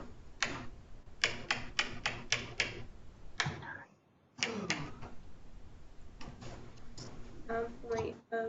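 Sharp plastic key presses on a calculator keypad tapped out in quick bursts during a classroom math lesson, close and crisp, with pauses and people talking around them.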